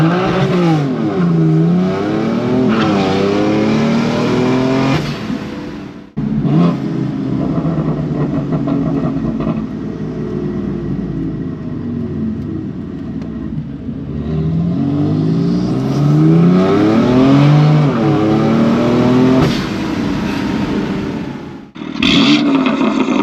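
A 2018 BMW M4 accelerates loudly on the road, its engine note climbing through gears in repeated surges, with a quieter cruising stretch midway before pulling hard again, heard from inside with no talk.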